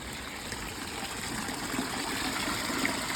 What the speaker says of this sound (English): This fountain you can see is a little bit not iced, but it's not flowing right because the water is so cold.